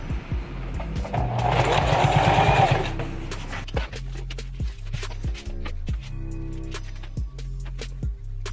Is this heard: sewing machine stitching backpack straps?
yes